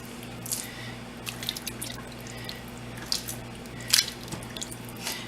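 A whole chicken goes into a pot holding about six cups of cold water, giving soft, scattered drips and small wet splashes at close range, quiet and without talk.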